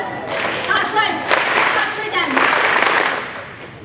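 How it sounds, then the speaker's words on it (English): A school assembly audience in a high school gym claps in two brief bursts, each a short wash of many hands that swells and fades, with background crowd murmur. "clap twice,"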